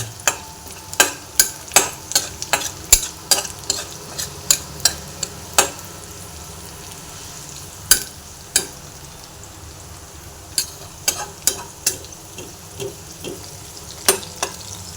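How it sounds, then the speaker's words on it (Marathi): Amaranth greens with turmeric and asafoetida, cooked with browned garlic, are stirred in a pan; a spatula clicks and taps against the metal in irregular, close bursts over a soft, steady frying hiss. "आपण पुन्हा एकदा हे थोडंसं मिक्स करून घेऊया."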